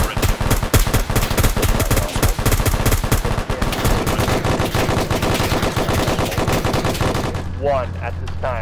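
Dense, continuous machine-gun and rifle fire from a military video game trench assault, loud and close, overlapping bursts with scattered louder shots, easing at the end into a steady hum with faint distant sounds.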